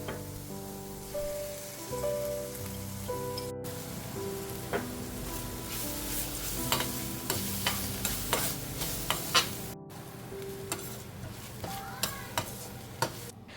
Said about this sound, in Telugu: జింజర్ గార్లిక్ ఆనియన్స్ అంతా మంచిగా వేయించిన తర్వాత